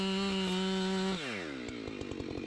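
A Husqvarna 592 XPG chainsaw runs at a steady high whine, then bogs down and drops in pitch as it cuts into a standing tree, loud and close with no talk.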